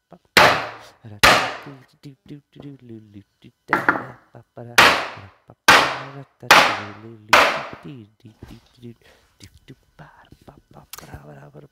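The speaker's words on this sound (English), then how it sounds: "After you've hammered all around, I've only done the one board, just for this demonstration" A hammer strikes a wooden pallet board, weighted down so it stays flat, in a series of loud, sharp wooden bangs at irregular intervals. Softer knocks and rattles fall between the blows, and a voice murmurs quietly.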